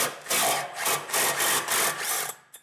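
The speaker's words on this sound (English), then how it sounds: "Take the screw back out." A screw is backed out of the clutch of a CF Moto U10 Pro side-by-side, giving close, rhythmic rasping bursts of tool-on-metal turning that stop abruptly with a final click.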